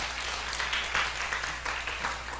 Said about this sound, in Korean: 우리 박수 한번 해주시기 바랍니다.